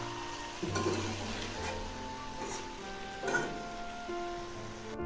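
A spoon stirs pui shak seed curry in a pan over the heat, giving a soft steady sizzle with a few scraping strokes. The sound is close and fairly quiet, and there is a faint low hum behind it.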